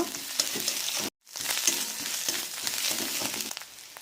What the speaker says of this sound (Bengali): এক চামচ আদা রসুন বাটা দিলাম আবারও ভালো করে কষিয়ে নেব